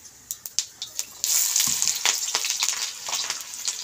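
Onions drop into hot oil already holding cumin and asafoetida: a few sharp crackles, then a loud, steady close-up sizzle that keeps bubbling and spitting, with no talk.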